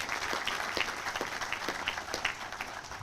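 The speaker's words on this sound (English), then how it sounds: "let's give them a round of applause as well" Crowd at a Memorial Day celebration applauds female Vietnam War nurses, a soft, distant wash of clapping with a few sharper claps standing out.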